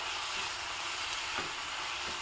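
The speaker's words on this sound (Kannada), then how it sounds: "ಈಗ ಒಂದು 4-5 ಚಮಚ ಆಗುವಷ್ಟು ಪೌಡರ್ನ ಹಾಕಿ ಮಿಕ್ಸ್ ಮಾಡ್ಕೋತಾ ಇದ್ದೀನಿ" Vangibath spice powder being stirred into brinjal rice in a pan, a steady soft sizzle with scraping, continuous and fairly quiet throughout, no voices.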